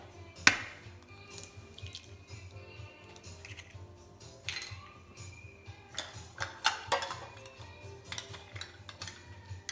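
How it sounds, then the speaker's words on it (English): Egg cracked against a bowl while making cassava and plantain flour bread: a sharp close tap early on, followed by scattered clinks and small kitchen handling sounds against a quiet background. "We crack 1 egg."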